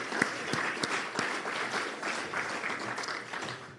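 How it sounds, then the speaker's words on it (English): An audience at a food-tech startup demo day in Tasmania applauds, a continuous close wash of clapping hands with a few sharper claps standing out, no speech. "So how about a round of applause for everyone?"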